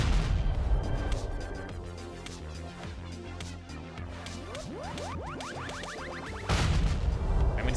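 Explosions and artillery-like blasts from the Red Ronin video game crash and pop in quick succession, with rising whooshing sweeps in the middle and a heavy low rumble returning toward the end.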